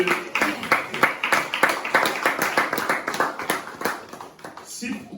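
A church congregation breaks into rhythmic clapping to acclaim the word of God during a Sunday service, a steady run of sharp, evenly paced claps with voices mixed in.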